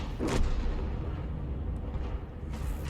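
A single heavy tank gun shot from an M53/M55 self-propelled artillery in a tank video game fires at a T95, a deep blast at the start that decays into a low rumbling tail.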